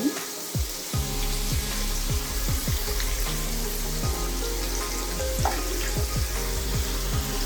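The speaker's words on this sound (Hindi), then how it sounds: "अब हम इनको एक एक करके इसके अंदर डाल देते हैं इस तरह से और थोड़ी देर के लिए हम इसको होने देंगे।" Potato slices for homemade chips drop into hot oil and fry with a steady, dense sizzle, punctuated by several soft plops and splashes as pieces go in one by one.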